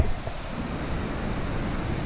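Dead Point Falls pours into a gorge with a steady, broadband rush of water, continuous and fairly loud, with no pauses or other sounds.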